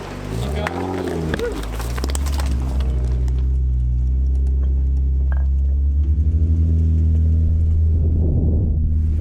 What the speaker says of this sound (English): The kids are driving, learning how to drive on these heavy rocks, taking their time